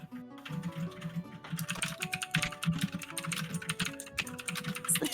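Rapid, furious typing on a computer keyboard: dense bursts of clicks run continuously throughout, mixed with steady tonal background sounds, and no one speaks.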